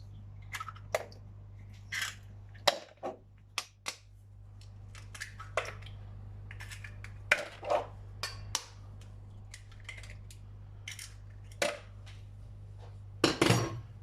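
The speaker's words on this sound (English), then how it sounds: "Right, 3 eggs into the bowl." Three eggs crack into a bowl as Yorkshire pudding batter is made, a series of sharp taps and wet clicks at irregular intervals over a low steady hum, ending in a cluster of knocks.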